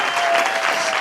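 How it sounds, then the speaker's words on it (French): Studio audience on a French game show applauding the contestants: a brief, dense burst of steady clapping, close and fairly loud, with no voices over it. "maintenant, on applaudit les candidats dans chaque équipe"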